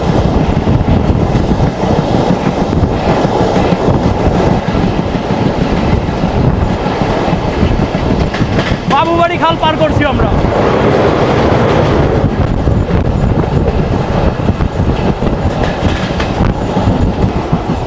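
Mongla Commuter train hauled by a WDM-3D diesel locomotive rolls steadily along, with continuous loud rumble and clickety-clack of wagons, a brief squeal midway, and someone talking over it throughout.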